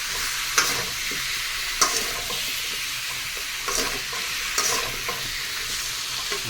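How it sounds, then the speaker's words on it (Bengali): Half a kilo of chicken and about half a kilo of vegetables sizzle steadily in a pan, with a handful of sharp spoon scrapes and stirs cutting through the continuous frying hiss, close and fairly loud, no voices. "এবার চিকেন আর সবজিগুলোকে ভালো করে কষিয়ে নেওয়া হবে।"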